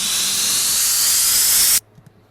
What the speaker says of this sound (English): obviously you have a riser